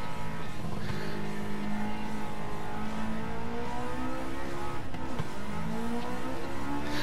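A Honda S2000 racing around a track in Gran Turismo 7, its engine note rising and falling steadily through gear changes and corners, with faint tire squeal and no talk.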